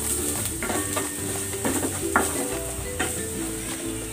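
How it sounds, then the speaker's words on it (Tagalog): Garlic and onion sautéing in hot cooking oil in a pan for a crab and corn soup, a continuous close sizzle with occasional stirring scrapes and clinks, no talking. "Gisa na natin tong bawang. Lagay na rin natin tong sibuyas."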